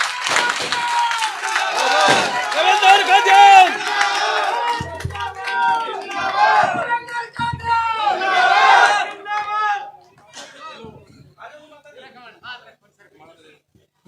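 Crowd at an outdoor political rally in Gannaur's small market cheers and claps loudly and continuously, with shouts rising over the din before fading out after about ten seconds, leaving scattered voices.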